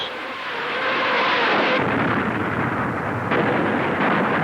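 Cannon and rocket fire during the Battle of Berlin, a heavy, roaring barrage that rumbles continuously for several seconds, loud and dense with bursts layered over one another.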